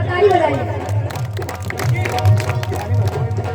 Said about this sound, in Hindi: जरा ताली बजाइए।